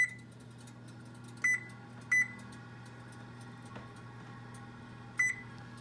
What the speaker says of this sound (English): the timer has rung off